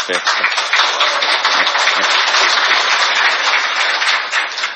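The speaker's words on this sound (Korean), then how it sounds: "큰 박수 한번 주십시오" An audience at a National Assembly forum on children's and students' school commute safety applauds a newly introduced guest, a dense, steady wash of clapping that stays loud and even throughout.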